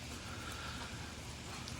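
Rain falling outside a waterfowl aviary, a faint, even hiss of steady rainfall with no voices.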